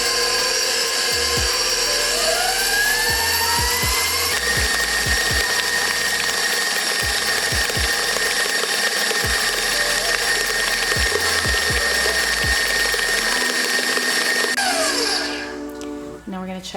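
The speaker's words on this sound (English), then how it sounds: "Now, using a paddle attachment, we are going to begin to mix our melted buttercream." A stand mixer with a paddle attachment beats melted, curdled Swiss meringue buttercream. It gives a steady mechanical whine with rhythmic low thumps, then winds down and stops near the end.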